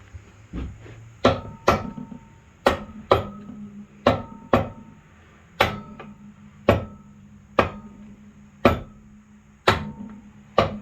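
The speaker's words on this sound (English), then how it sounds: "I know it sounds like I'm really hammering on it, but I'm not hitting it hard at all." Sharp, light hammer taps strike a part on a 2004 Honda Shadow motorcycle, about a dozen close, distinct knocks at irregular intervals with quiet gaps between them.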